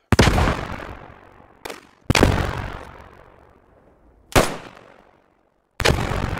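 Frag grenades and gunfire boom in a tactical shooter game near a church: five sharp, loud blasts, each with a long fading rumble, spaced irregularly with brief silent gaps between.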